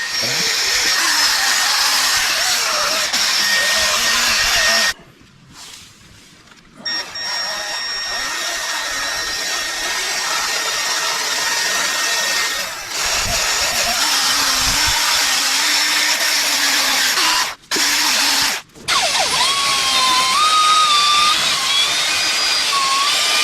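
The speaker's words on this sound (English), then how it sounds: "this Milwaukee polishing tool comes with different adapters, and this one has a twist lock, and it just tightens on there" A Milwaukee polishing tool works an aluminum motorcycle fork tube with a loud, steady high-pitched whine that cuts out briefly a couple of times before spinning back up.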